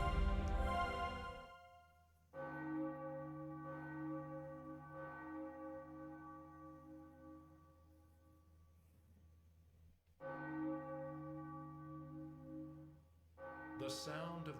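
A temple bell rings in the Castlevania arcade game, struck loudly with a long, shimmering decay, struck again partway through, then cut off by a brief, bright burst at the end.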